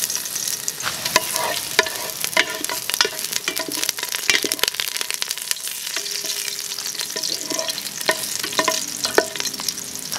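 Ginger sautéing in hot oil for a Filipino dish, a steady close sizzle crackling throughout with frequent scraping stir strokes, no voices.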